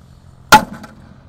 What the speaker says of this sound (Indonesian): Selanjutnya kita nyalakan, ini ada mercon sunflower ya.